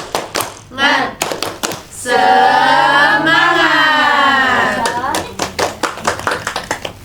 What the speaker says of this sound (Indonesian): Biar tambah semangat kita tepuk semangat dulu ya